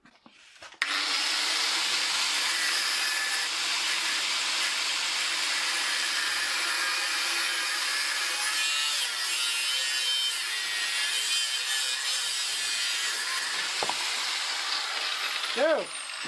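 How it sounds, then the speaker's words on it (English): An angle grinder cutting into an old bicycle, a loud, steady, high whine that runs without a break for about fifteen seconds, then a few brief scraping chirps as the cut ends. "Let's fire up the angle grinder."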